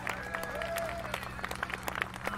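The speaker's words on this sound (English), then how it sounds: "Give Charlie and Nesh Ryan applause up here" Audience applause at a big band concert, a steady wash of clapping from a crowd with a few brief tonal sounds over it, moderately loud and continuous throughout.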